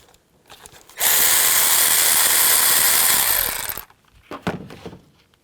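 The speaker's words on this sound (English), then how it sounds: "Take a 10mm socket and take this bolt out right here." A 10mm socket on a power ratchet backs out a bolt on a 2003–08 Nissan Maxima engine, giving a loud steady whir of about three seconds followed by a few lighter clinks.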